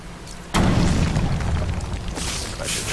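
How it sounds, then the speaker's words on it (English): A glue grenade detonates in Batman: Arkham Origins with a sudden deep boom followed by a rumbling tail and a second hissing burst, loud and close with no speech over it. "tried to use my glue grenade to create a raft"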